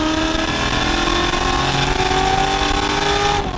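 A Ford F100 truck built NASCAR-style, with a high-revving engine, holds a loud, steady scream at high RPM, close and continuous throughout with no letup.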